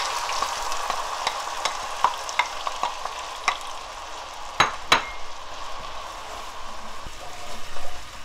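Spicy seasoned sea eel stir-fries in a pan, sizzling steadily in its own fat while a utensil scrapes and clanks against the pan now and then, close up, with no talking.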